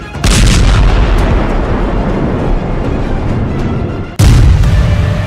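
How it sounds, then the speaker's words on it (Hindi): A loud, sustained roar of bomb explosions and artillery rumble in the Israel–Hezbollah conflict, then a sudden heavy blast that jumps louder and keeps booming. "जब हिजबुल्लाह के ठिकानों पर इजराइल का बम गिरता है तो धमाका बड़ा होता है"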